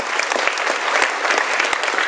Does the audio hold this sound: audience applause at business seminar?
yes